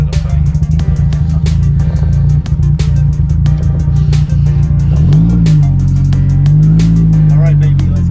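Nissan 240SX drift car engine roaring loud and close, holding high revs with a rising and falling pitch as the throttle is worked, a voice shouting over it.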